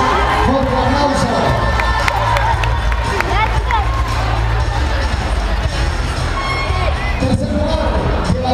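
A large crowd at a cheerleading competition awards ceremony cheers, shouts and claps continuously and loudly throughout, with children's voices rising above the roar.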